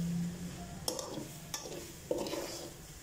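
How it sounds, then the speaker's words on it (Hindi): Grated radish dry-roasts in a pan while a spoon stirs it, giving three distinct scraping knocks over a faint background sizzle. "मूलियाँ जो है वो हमारी बिल्कुल भून चुकी हैं"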